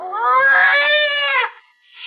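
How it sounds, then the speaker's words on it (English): A cat lets out a loud, drawn-out, wavering yowl up close, then a fainter start of another cry. "It was a cat."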